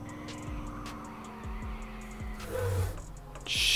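Tesla Cybertruck skidding on a winter road in City Car Driving, with brake and gas pressed together: a steady engine drone with gritty tyre scrub that swells into a louder hiss and squeal near the end.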